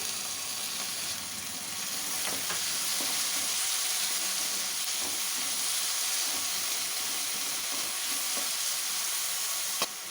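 Tomatoes tossed in with lightly browned onions sizzle in a pan, a steady loud frying hiss running throughout with occasional soft stirring clicks, no voices.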